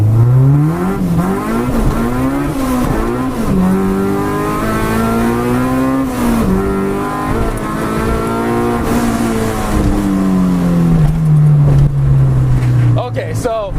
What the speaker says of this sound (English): I was revving up to about 8 grand, but it was not hitting the rev limiter.